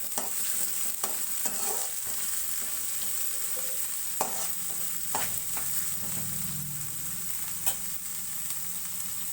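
Sprouted legumes being stirred and dry-roasted in a pan for a North Karnataka sprouted-gram stir-fry: steady soft sizzle with repeated scraping stir strokes, close and continuous, no talking.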